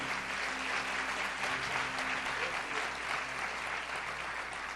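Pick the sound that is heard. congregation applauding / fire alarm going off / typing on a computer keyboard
congregation applauding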